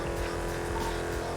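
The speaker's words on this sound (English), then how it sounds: "Oh, this car's so loud when you fucking limit it. Like stuck in second gear." A loud muscle car in GTA V roars with its engine held at high revs as though stuck in second gear, a steady droning buzz with no gear changes.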